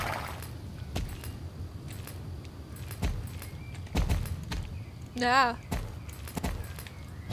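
Horse hooves clop in an irregular walking rhythm while riding in Star Stable Online, with a short whinny-like sound midway; a player speaks briefly over the footsteps.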